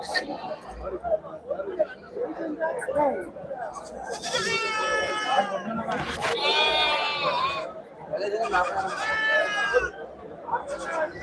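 Goats bleat repeatedly at a goat market in Puthiyamputhur, Thoothukudi district, with several long wavering calls standing out over a steady crowd murmur and people talking nearby.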